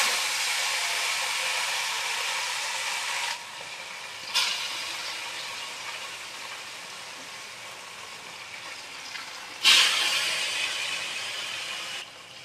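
Fish fries in hot mustard oil in a kadai with a steady soft sizzle. A few brief louder bursts of spattering rise out of it as the pieces shift.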